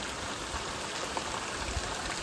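Rain falling steadily on a rainy morning, a dense even hiss of drops with faint spattering, continuous and fairly close with no voices.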